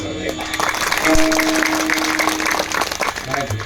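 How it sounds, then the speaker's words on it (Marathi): An audience at a religious discourse by a maharaj in Ghotewadi clapping loudly, a dense burst of applause running throughout with a voice speaking over it. "टाळ्या तुम्ही जोरात वाजवा"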